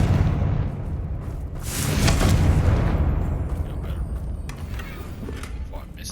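A Confringo blasting spell in Hogwarts Legacy goes off as a loud burst explosion near the middle, with combat rumble before and after and a voice speaking over it.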